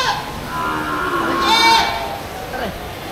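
Goats bleat at a Philippine livestock market, one clear wavering bleat peaking mid-clip and a fainter call after it, close by and over a murmur of background chatter.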